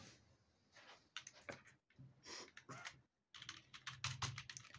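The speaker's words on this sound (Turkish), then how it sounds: "Sesi normal. Normal klavye." Typing on a brand-new Turbox RB-105K non-mechanical membrane keyboard: bursts of quick, close-up key clacks in uneven runs, separated by short silent pauses, with no voices.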